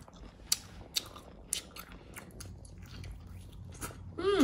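Someone eating giant octopus leg meat produces soft, wet chewing with several sharp bites or crunches early on, all quiet and close, with a brief voice at the end.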